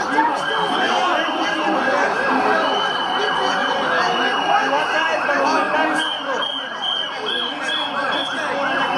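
An ambulance siren wails loudly and continuously at a street protest in Sofia, its rapid warbling cycles repeating for the whole stretch, close by and dominant over the crowd murmur beneath it.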